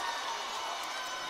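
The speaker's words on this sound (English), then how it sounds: "listen to the crowd go wild" A crowd at a high school basketball game cheers and applauds in a big gym, a dense, continuous roar at steady loudness.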